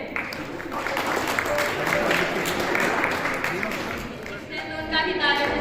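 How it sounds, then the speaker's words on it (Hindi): An audience at a school farewell party claps to welcome the guests, a dense, steady patter of applause that runs throughout, with a voice speaking over it. "और सभी उनका तालियों से स्वागत करें।"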